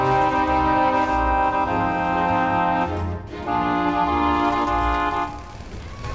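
Bach's cantata Wacht auf plays a passage built on the 50s progression. Sustained, rich harmonies are underpinned by recurring bass notes, with a brief pause midway before the music resumes.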